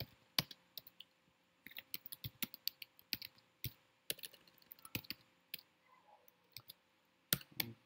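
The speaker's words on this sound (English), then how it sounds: "so what's wrong with my typing?" Typing on a computer keyboard while writing assembly code, irregular bursts of sharp close clicks and key taps with brief pauses between runs, no voices.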